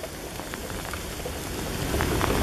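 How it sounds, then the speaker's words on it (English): Rain starting to fall outdoors during a fishing trip, a dense, steady patter of close drops that grows slightly louder, with no talking. "Started raining."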